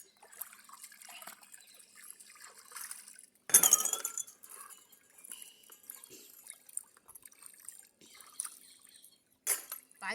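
Dishes are washed with water in a village home: clinking glass and metal utensils, drips and splashes, and bursts of scrubbing, all fairly faint and close with pauses between.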